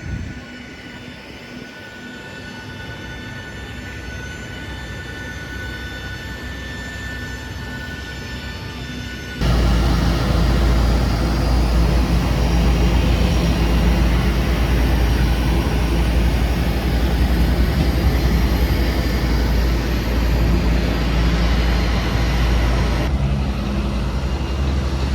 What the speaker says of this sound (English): And this is Stansted Airport.